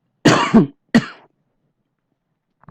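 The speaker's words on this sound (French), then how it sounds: "pardon, je vais tousser." Two harsh, close coughs in quick succession, followed by silence and a faint sound at the end.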